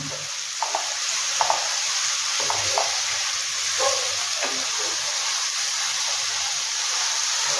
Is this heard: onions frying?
yes